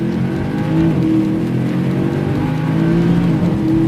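Mercedes-AMG C-Class coming in fast and spinning around on a coned course, engine roaring loud and steady with shifting revs and possible tire noise, heard close, no voices.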